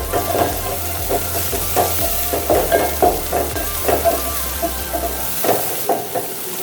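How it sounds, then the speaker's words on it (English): Onions frying in oil while being stirred for a lunch dish, giving a low, steady sizzle broken by repeated scraping and clinking stirs at a moderate distance, with no talking. "So the onions will cook well as the oil continues to cook itself."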